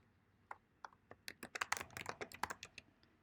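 Computer keyboard typing, a run of quick irregular key clicks that starts sparse and speeds into a dense burst before tapering off, close and fairly quiet with no talk.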